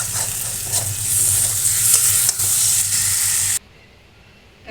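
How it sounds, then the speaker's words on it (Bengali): Curry being stirred and sautéed in oil in a pan, with a loud continuous sizzle and scraping stir strokes that cut off abruptly near the end, leaving near silence. "এবার কষানো হয়ে এসছে প্রায়"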